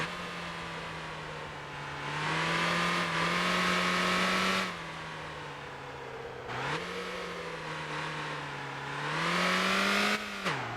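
In the Motor Town driving game, a car engine revs up through repeated gear changes, its pitch rising, dipping on each shift and climbing again as it laps the track, loud and continuous with no voices.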